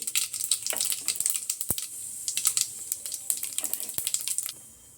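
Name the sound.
mustard seeds and cumin sizzling in hot oil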